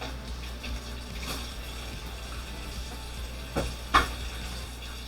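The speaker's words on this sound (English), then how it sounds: "we're going to stir fry these up real quick" Japchae vegetables stir frying in a pan, a steady soft sizzle running throughout with a couple of brief louder clinks or stirring scrapes near the end.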